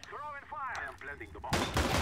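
Counter-Strike: Global Offensive gunfire erupts as a loud, dense burst in the last half second, after an excited voice talks over faint game noise.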